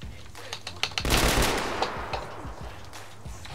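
Shotgun fire rings out in the Arma 3 game as a cluster of sharp, fairly faint reports with a brief noisy burst, set against background game sounds and a voice.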